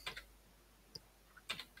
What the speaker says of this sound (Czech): Tak jedu dále, mačkám šipku doprava.